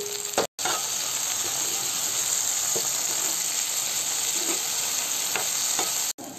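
Eggplant slices coated in turmeric and salt fry in mustard oil, a loud, continuous close-up sizzle with faint stirring clicks, briefly cut by two short dropouts and free of talk.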